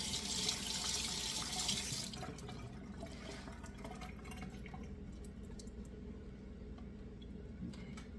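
Tap water runs steadily into a kitchen sink as blackberries are rinsed, a loud splashing stream for the first two seconds that then softens to quieter trickling and dripping.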